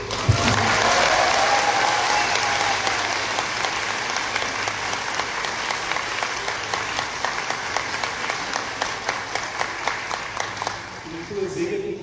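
An audience at a Portuguese-language lecture on success and money gives steady, dense applause that runs for several seconds, with a voice heard faintly over it and the clapping tapering near the end.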